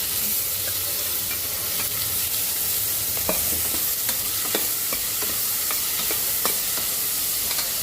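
Onion, shallots, green chilies, ginger and garlic sautéing in a pan, a constant close sizzle of frying with scattered scrapes and taps of stirring throughout.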